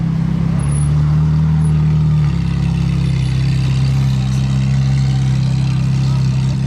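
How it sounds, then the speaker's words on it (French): Modified cars pull onto a motorway in a loud, continuous engine drone, a steady low roar with a slight step in pitch partway through as they accelerate. "Ils vont nous faire quelques accélérations."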